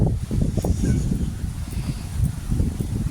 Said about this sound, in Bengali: বিশাল ঠান্ডা হাওয়া দিচ্ছে, এত জোরে ঠান্ডা হাওয়া দিচ্ছে যে বলার কথা না